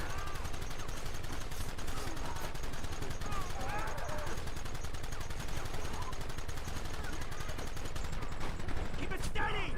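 A Red Dead Redemption shootout fills the scene with rapid, continuous gunfire, overlapping shots crackling in a dense, steady volley, while voices talk over the noise.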